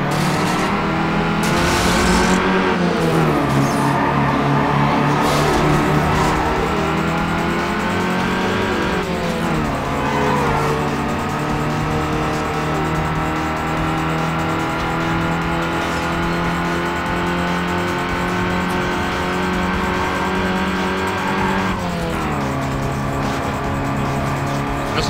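An untuned Mitsubishi Lancer with no turbo races in Need for Speed Underground 2, its engine droning loud and continuous, with its pitch climbing and then dropping at a few gear shifts.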